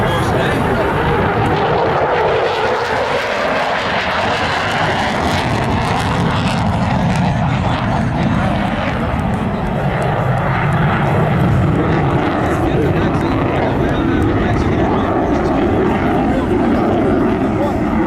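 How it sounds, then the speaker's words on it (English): An F-15 Eagle jet takes off at an air show in Warner Robins, Georgia, giving a loud, steady roar of engine noise that fills the whole stretch, with an announcer talking over it. "The F-15 Eagle taking off for us this morning"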